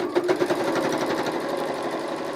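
A sewing machine stitches the seams of a fabric wallet pocket, running in a loud, steady, fast needle rhythm close by, with no voices.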